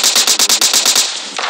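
Automatic gunfire in the battle royale game PUBG, a loud close burst of about ten rapid evenly spaced shots followed by a brief tail, with no talk over it.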